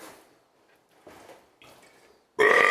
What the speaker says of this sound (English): That's part of the very important thing is to burp